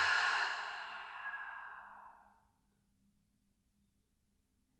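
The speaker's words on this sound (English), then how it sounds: "And exhale through the mouth." A long, breathy exhale through the mouth during a yin yoga session, close and soft, fading out after about two and a half seconds into near silence.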